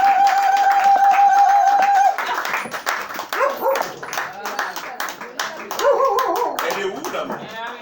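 Applause at a family meal breaks out about two seconds in, after a steady tone, with a crowd clapping briskly and unevenly amid chatter and voices until the end.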